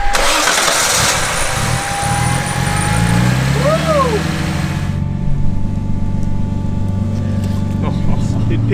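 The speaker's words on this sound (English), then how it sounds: "It picks up the higher you go in the rev range, it just keeps going more and more." A Nissan R31 with a front-mount intercooler, tight LSD and manual conversion revs hard and close, its engine note rising and sweeping through the rev range before settling into a steady idle, with people talking over it.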